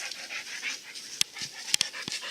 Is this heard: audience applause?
no